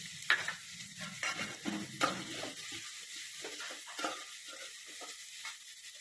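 Ginger and green chillies fry in a pan while being stirred, a soft steady sizzle broken by scraping spoon strokes at irregular intervals, close and fairly quiet.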